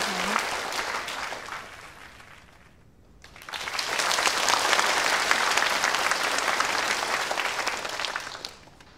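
Audience applause at a graduation ceremony in a drama: a sustained wash of clapping that dips briefly, then swells back loud and steady for several seconds.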